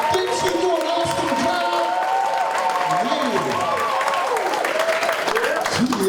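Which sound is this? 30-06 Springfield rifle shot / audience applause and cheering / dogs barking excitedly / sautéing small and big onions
audience applause and cheering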